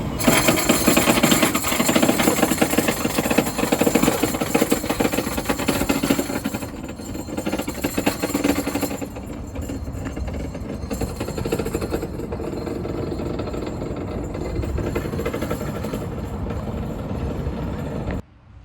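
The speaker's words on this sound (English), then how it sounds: "Evidence of a blown up transmission in 3, 2, 1." A truck with a blown-up transmission running: a loud, harsh, continuous mechanical clatter and grinding roar, up close, heaviest for the first several seconds then settling to a slightly lower steady din before cutting off at the end, with no talking.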